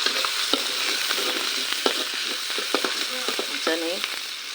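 Shrimp frying in hot oil with onion and garlic for a home-cooked red amaranth dish, giving a steady close sizzle broken by scattered pops and a few clinks of a utensil, with no talking.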